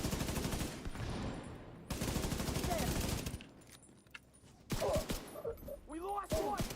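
Bursts of automatic G36 rifle fire from a PvE video game come in three rapid, loud volleys separated by short gaps, followed by scattered shots and brief electronic effects.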